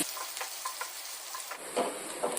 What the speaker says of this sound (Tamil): பெரிய வெங்காயம் கண்ணாடி பதம் வரும் வரைக்கும் வதக்கிக்குவோம்